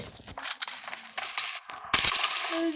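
Rapid metallic clicks and clacks of a Kar98 bolt-action rifle being reloaded in PUBG Mobile Lite, a burst of sharp mechanical snaps followed by a louder, brighter rattle near the end, with no talking.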